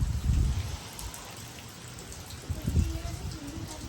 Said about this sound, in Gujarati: 3-4 વાગ્યાનો વરસાદ ધીમો ધીમો ચાલુ જ છે